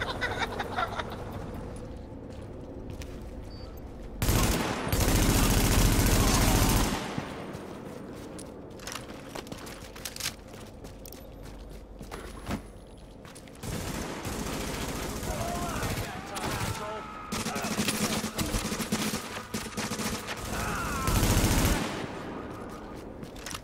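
Bursts of automatic gunfire crackle through the online shooter The Division in its Dark Zone, several loud volleys of a few seconds each between quieter stretches while players talk over voice chat.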